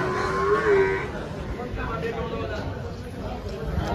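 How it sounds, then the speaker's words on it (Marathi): Buffaloes at a livestock market give a drawn-out low moo up close, followed by general market background noise and distant animal sounds. "या पण म्हशी मित्रांनो इकडे पण त्यांच्या म्हशी बांधलेली आहे"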